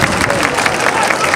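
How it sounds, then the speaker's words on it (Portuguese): A crowd claps for Dona Emília, a coordinator, at an evening march of the Grupo Desportivo e Rancho Folclórico e Etnográfico of Vila de Pias. The applause is dense and close, with a voice talking loudly over it. "mas dá palmas para ela"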